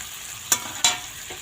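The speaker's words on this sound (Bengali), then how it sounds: "পনিরটা লবণ হলুদ দিয়ে লাল লাল করে ভেজে নেব," Paneer frying in a pan with salt and turmeric, a low background sizzle broken by two sharp scraping stirs close up, with no talking.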